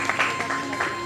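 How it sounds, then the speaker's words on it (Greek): A studio audience claps for a dancing couple after a waltz on a televised dance show: a brief, steady burst of applause, moderately loud, with faint voices mixed in. "Να τους υποδεχθούμε, νομίζω, με ένα πολύ δυνατό χειροκρότημα"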